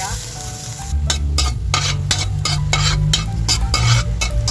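Sliced ginger sizzles and crackles in hot oil in a frying pan, a steady bright frying hiss broken by repeated scraping stirs of a utensil against the pan.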